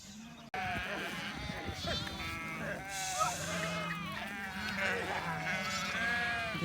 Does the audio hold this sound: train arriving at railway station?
no